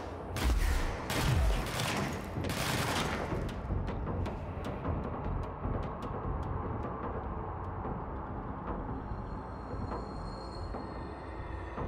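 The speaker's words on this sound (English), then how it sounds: "Gunfire." Dense bursts of rapid gunfire crackle in the first few seconds of the video game Control, then scattered individual shots ring out over a steady rumbling background with game-like ambience.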